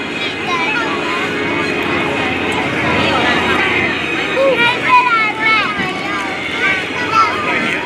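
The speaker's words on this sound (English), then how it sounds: "As the aircraft once again comes in from your left this time, you can see the unique silhouette and the large wing area of the TBM." A TBM Avenger World War II torpedo bomber, the "Doris Mae," flies past at the 2019 Leesburg Airshow, its engine a steady, loud drone mixed with wind and a busy crowd murmuring throughout.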